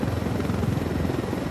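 A helicopter in the video game Ghost Recon Wildlands makes a continuous low rotor rumble, steady and fairly close, with no talk over it.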